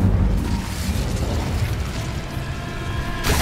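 The Incendio fire spell in the game Hogwarts Legacy roars as a loud, close, sustained fiery whoosh with rumbling bursts, swelling again at the end, with no talk.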